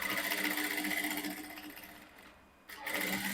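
A sewing machine stitches a half-inch seam allowance on a transparent illusion corset, running steadily with a fast mechanical whir, briefly slowing and pausing near the end before starting up again.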